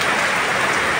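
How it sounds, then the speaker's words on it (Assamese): A heavy downpour after a long hot spell makes a dense, even hiss of rain striking surfaces, loud and constant throughout, with no voices. "একদম ধাৰাসাৰ বৰষুণ দি আছে"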